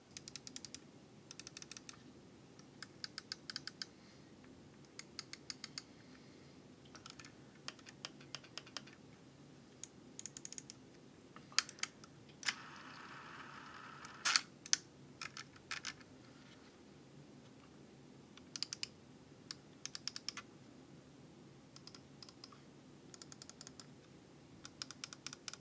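Quiet, sharp clicks from a Logitech G502 Lightspeed gaming mouse in irregular bursts and short rapid runs, close by, with brief pauses between groups and a soft background hiss.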